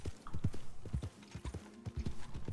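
A horse's hooves in a Wild West video game clip-clop in a steady trotting rhythm, close and fairly quiet, with a faint hum in the background.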